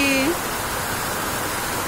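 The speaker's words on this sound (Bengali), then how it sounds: "বাইরে অনেক বৃষ্টি হইতেছে বন্ধুরা" Heavy rain falling outside, a dense, even hiss of downpour that holds steady throughout, preceded by a brief tonal sound at the very start.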